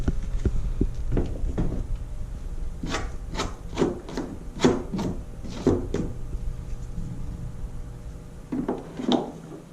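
A series of short, sharp grinding bursts, several in quick succession with brief pauses between, close up and fairly loud, as a 1/8 inch drill bit bores through plastic.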